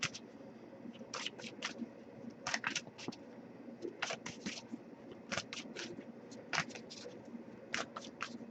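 Tarot cards being shuffled in bursts of crisp riffling, close and fairly quiet, with pauses between shuffles.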